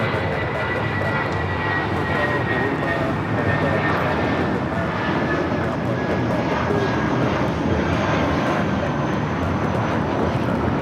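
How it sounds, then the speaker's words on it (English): A Viva Airbus A320 takes off from Los Angeles airport bound for Guadalajara, a steady, loud broadband engine roar with a faint high whine holding throughout, and radio-like voices chattering faintly underneath. "This is Viva, Flight 511, taking off to Guadalajara on the A320."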